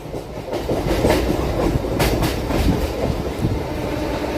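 A MEMU passenger train runs steadily along the rails near Komatipalli, a loud continuous rumble with rhythmic wheel clatter and brief rattling bursts.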